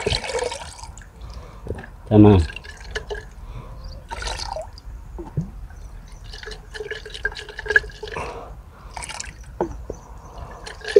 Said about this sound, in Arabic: هتخلط المبيد في مية؟